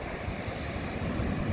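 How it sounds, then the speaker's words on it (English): Ocean surf at Nazaré, Portugal, a steady low roar of breaking waves mixed with wind buffeting the microphone, continuous and fairly loud with no voices. "home of the biggest waves in the world."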